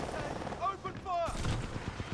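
Weapon fire in the video game Titanfall 2, a run of shots and bursts over a steady game soundscape, with a louder blast near the middle and someone talking through it.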